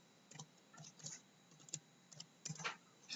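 Computer keyboard keys tapped in short irregular bursts, close and fairly quiet, with brief pauses between the clusters of clicks.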